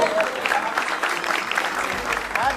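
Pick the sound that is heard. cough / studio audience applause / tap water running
studio audience applause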